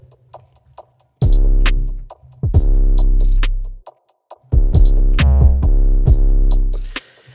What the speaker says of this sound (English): have one 808 play like one time and then the other 808 play the other time